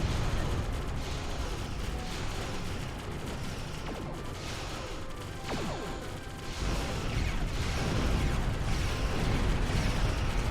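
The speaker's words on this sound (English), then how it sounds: "A bit close to that explosion" Loud video game explosion with a dense crashing, rumbling burst that stays heavy for the full ten seconds amid ongoing mechanical clatter and blasts.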